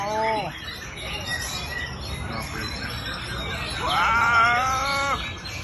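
A ten-month-old white-rumped shama sings near the microphone, giving bright whistled phrases and chirps at the start and again in a louder stretch near the end, over a noisy background with voices at competition.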